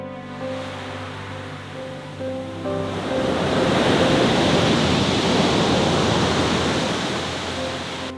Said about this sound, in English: The beach is really steep, so the waves are actually quite severe and quite loud, as well as you can probably hear.